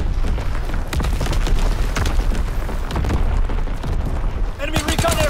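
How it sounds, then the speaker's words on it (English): In a WW2 shooter game, enemy artillery and bombs crash down amid a continuous barrage of booms and gunfire, with voices calling out over the explosions. "Incoming enemy artillery. Get to cover. Enemy bomb incoming."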